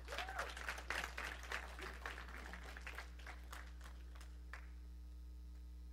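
A church congregation claps in applause, a dense burst of handclaps that thins out and fades over several seconds, with a steady electrical hum underneath and a brief voice rising early on.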